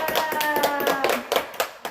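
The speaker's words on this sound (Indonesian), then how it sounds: "betul sekali, tepuk tangan untuk Fiza." A quick burst of many children's hands clapping together in a classroom, rapid and uneven, with a voice heard faintly alongside.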